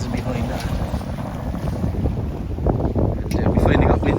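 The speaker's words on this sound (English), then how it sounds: "Wind just kicked up to 20 knots. Gusting at 20." Strong wind gusting to about 20 knots buffets a sailboat entering the Strait of Gibraltar, a loud rumbling roar on the microphone with water rushing against the hull and gusts rising toward the end.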